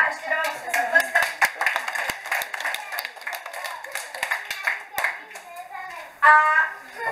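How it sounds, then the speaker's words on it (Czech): Children's audience at a puppet theatre clapping in scattered, uneven bursts of hand claps, with an adult and children's voices chattering over and between the applause. "Tak děkujeme a ještě dávám se zatleskat."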